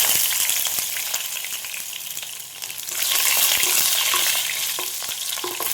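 Garlic cloves frying in hot oil with mustard seeds in a pan, a steady close sizzle with scattered crackles and occasional stirring scrapes, briefly dipping before surging louder again.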